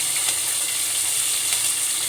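Curry leaves crackle and sizzle in hot frying oil for a spicy kaara kulambu, a loud, dense, continuous spitting hiss heard close up with no talking.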